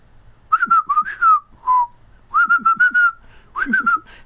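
A person whistles several short melodic phrases with brief pauses between them, close and clear.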